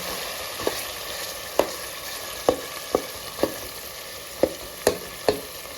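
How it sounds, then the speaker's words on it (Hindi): Khoya fries in hot ghee for bottle gourd halwa, a steady soft sizzle broken by sharp scraping stirs roughly every half second, close and without talk. "खोए को हम गोल्डन फ्राई करने वाले हैं।"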